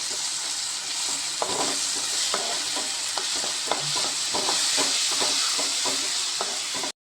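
Ground mint paste frying with masala and onions in a pan, a continuous close sizzle broken by regular scraping stir strokes and light clinks, no voices.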